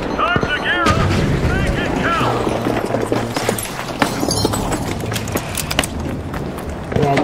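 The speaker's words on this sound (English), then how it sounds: "I'm just gonna use the flashbang this time." Flashbang grenade and busy gunfire in the shooter game The Finals: sharp bangs and rapid cracks pile up over running footsteps, with a voice talking intermittently.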